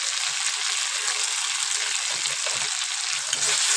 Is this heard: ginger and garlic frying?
yes